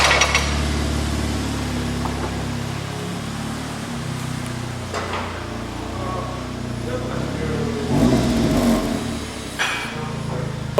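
A Golf R MK7 sits in a workshop with its engine running, a low, steady rumble that continues under ongoing talk, with a couple of brief louder surges.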